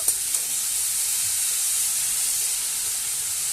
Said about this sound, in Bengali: গাজরটা দিয়ে দিচ্ছি। এবার এটাকে ভালো করে ভেজে নেব।